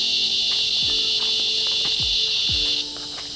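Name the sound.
night insects chirping at a ranch camp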